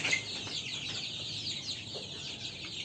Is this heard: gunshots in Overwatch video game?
no